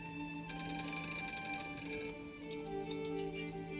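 A telephone rings with a bright, sustained electronic trill that starts abruptly, holds for about two seconds, then fades into quieter tones with a faint click.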